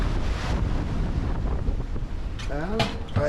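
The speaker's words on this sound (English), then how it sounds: "The waves started washing across the boat" Waves slosh across the deck of a sailboat heading upwind on the North Sea, with heavy wind buffeting the microphone and a low, continuous rush of water throughout.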